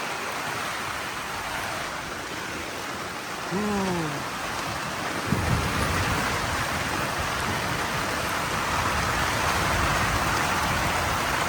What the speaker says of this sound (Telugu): చాలా భయంకరమైన వర్షంలో మనము ఇరుక్కున్నాము టెంట్లో చూడండి